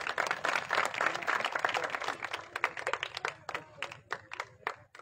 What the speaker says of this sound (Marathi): टाळ्या होऊन जाऊ द्या एकदा